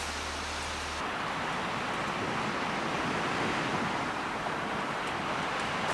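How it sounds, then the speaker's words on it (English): Wind rushes in a steady broadband roar on the shore of Lake Superior, buffeting loudly with a surf-like wash, continuous and unbroken, no voices. "It's getting really windy out there"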